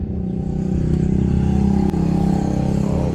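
A Yamaha Mio Gear 125 scooter engine with a misfire, revving loudly and close, a steady buzzing drone that rises and holds with uneven sputtering pulses, with no talk over it.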